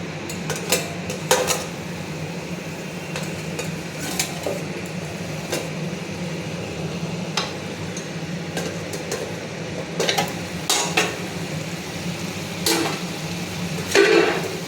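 Shrimp dish being stirred in a pan, with scattered clinks and scrapes of a utensil against metal over a low background hum, moderately close and fairly quiet.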